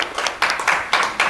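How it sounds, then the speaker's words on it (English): Clapping from an audience at a Commonwealth connectivity agenda panel event, a brief burst of hand claps coming in uneven pulses at moderate loudness. "give the members of the panel a hearty round of applause"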